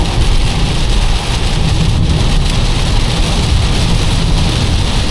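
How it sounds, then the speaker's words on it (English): Heavy rain pounds the body of a 2025 VW T-Cross driving on a highway, a dense, loud, constant roar of drops over tyre and road noise, with no let-up. "the rain is now really heavy"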